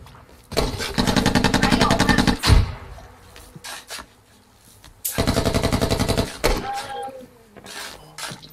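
Machine gun fire in a video game, two long rapid bursts of loud automatic shots separated by a pause, with scattered single shots, a heavy thump and faint voices in the gaps.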